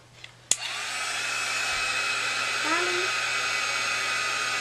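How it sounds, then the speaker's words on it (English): After a sharp click, a heat tool starts and blows in a steady, even whoosh over a beeswax-coated art journal cover, holding a constant hum for several seconds at close range. "So I'm going to take my heat tool to it really quick."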